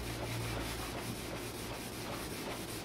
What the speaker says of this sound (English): And then just buffing it off with a little bit of worn fabric.